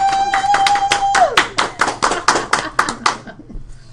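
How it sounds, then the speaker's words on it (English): An audience claps in a quick, even rhythm, with a dozen or so sharp, close hand claps in a row that stop abruptly, over a faint sustained tone. "Can we get a hand clap?"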